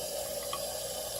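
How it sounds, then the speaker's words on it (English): Running tap water rinsing a small IPX8 waterproof Bluetooth earbud, a steady close hiss of flowing water without pauses. "So now we're giving it a nice rinse and see how it works regarding waterproof."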